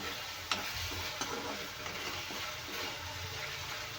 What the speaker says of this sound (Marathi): तर परत हलवून घेऊया